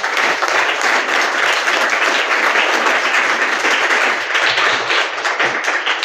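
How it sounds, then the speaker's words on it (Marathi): An audience gives loud, sustained, dense applause at the closing ceremony of a school summer camp at Shri Shivaji High School, Vanoja, steady throughout with no talking. "यांच्यासाठी सुद्धा एकदा जोरदार टाळ्या वाजवा."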